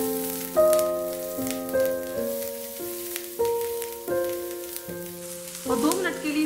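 Ginger and finely chopped green chillies fry in a pan for a fasting-day breakfast, giving a steady crackling sizzle beneath prominent background music with clear melodic notes.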